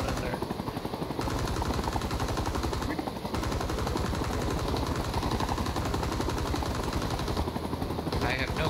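A helicopter machine gunner fires in a military video game, sending rapid continuous bursts over the rotor drone for the whole stretch. A person talks under the shooting.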